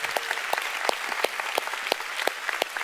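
A church congregation applauds during a sermon, a dense, steady wash of many hands clapping with a few louder individual claps standing out, no talking.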